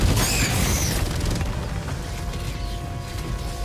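A grenade explodes in an online multiplayer shooter game, a loud broadband boom at the start that fades into a rumbling, mechanical tail of battle noise.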